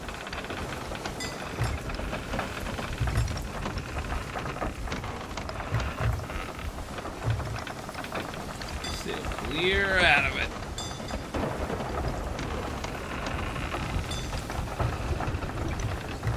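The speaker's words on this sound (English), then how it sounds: "Right out of the storm." Heavy rain and a rumbling thunderstorm at sea in Sea of Thieves, a constant wash of rainfall with a louder surge midway, while someone speaks briefly over it.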